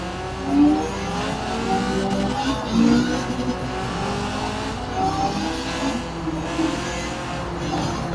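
Drift car in the Forza Horizon 4 racing game, with a steady engine drone, tire noise and bursts of revving as it alternately brakes and accelerates through slides, loud and continuous throughout.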